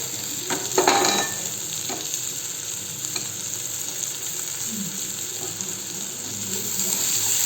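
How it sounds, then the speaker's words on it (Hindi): Potatoes and carrots frying in a hot pan give a loud, continuous close sizzle, with a burst of utensil clatter and stirring near the start before the frying settles into a steady hiss. "जब हल्का हल्का फ्राई हो गया, अब इसमें डाल देती हूँ आलू और गाजर"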